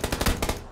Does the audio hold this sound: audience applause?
no